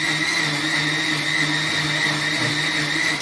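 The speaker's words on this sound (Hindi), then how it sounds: "ठंडी होने पर हमको इस प्रकार से जब इसका घोल बन जाए तो उसको मिक्सी में हमको फीटना है" A kitchen mixer grinder blends a cooled herbal ointment mixture, made at home for skin and joint pain, with a loud, steady whirring motor drone that runs unbroken throughout.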